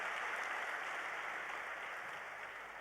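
An audience applauds at a network marketing success day event, a faint, steady wash of clapping hands continuing evenly throughout with no voices.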